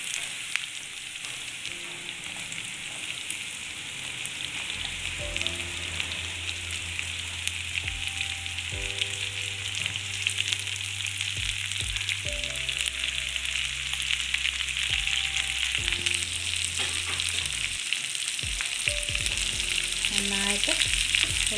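Bitter gourd pieces fry in oil for a pickle and are stirred now and then. A dense, steady sizzle fills the whole stretch, with occasional scrapes and a low background hum.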